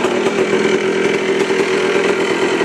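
A warmed-up ATV engine idles steadily, close and loud, with a buzzy, even drone and a faint rapid rhythmic flutter running through the whole stretch.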